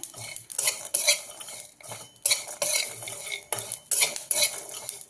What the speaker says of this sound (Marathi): धने आणि जिरे भाजत आले की त्याच्यामध्येच लसूण आणि खोबरं आपण ॲड करून ते पण भाजून घ्यायचं आपण